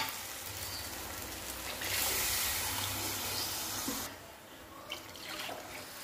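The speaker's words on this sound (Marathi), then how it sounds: "आता याच्यामध्ये पाणी टाकून घ्यायचं आहे" Water pours steadily into a pot of gravy made with squash and cream, a continuous splashing rush that swells in the middle and then eases toward the end.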